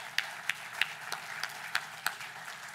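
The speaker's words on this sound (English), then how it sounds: "So give them a round of applause." A crowd applauds at an anniversary celebration, with regular clapping bursts spread across the room at moderate distance. No one speaks over it.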